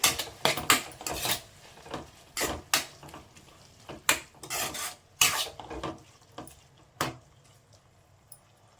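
A spoon stirs a salted tomato mixture in a cooking pan, giving a run of irregular scraping clinks and knocks against the metal, loud and close, with quieter gaps between strokes.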